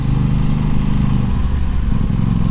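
A 2022 Aprilia Tuono 660 Factory motorcycle engine hums loud and close while ridden in second gear at low town speed, a steady pulsing drone throughout with no voices.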